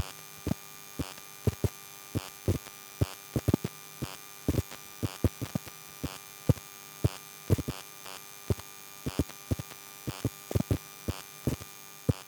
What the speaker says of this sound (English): take an EM pickup coil and put it on top of your Sky Q box